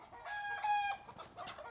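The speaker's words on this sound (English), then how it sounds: "the roosters are nervous sometimes" Several roosters kept together in a pen crow and cluck in the background, one drawn-out crow followed by choppy clucks, moderately faint and without speech.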